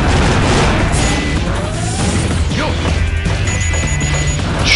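Shooting and destruction in Sonic Adventure 2 while playing as Eggman, a loud, busy mix of crashes, booms and impacts with whooshing effects over a continuous game soundtrack.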